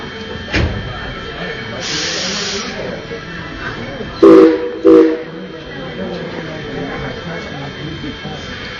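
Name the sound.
steam train whistle blowing twice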